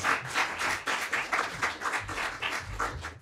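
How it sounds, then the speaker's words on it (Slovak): Audience applause for a guitarist at a Slovak music show: brief clapping with irregular pulsing swells across about three seconds, moderately close. "Poprosíme potlesk."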